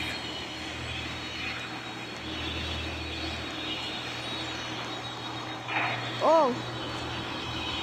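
Fixed-wing airplane rumbling steadily at an airbase in snowy weather, a low broad engine drone running throughout with a brief louder swell near the end, while a voice exclaims over it.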